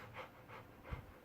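A person imitates shallow, rapid breathing with three quick, soft panting breaths, evenly spaced and faint, with no other voice.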